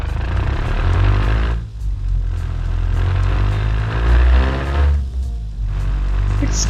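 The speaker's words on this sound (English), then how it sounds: "So when you are driving the engine every day," A sports car engine with a new camshaft valve cover runs at everyday driving load, giving a steady, loud low rumble that briefly dips twice before resuming.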